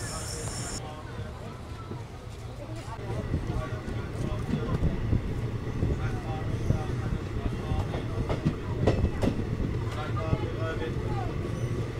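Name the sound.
Teesta Torsa Express train at Nabadwip station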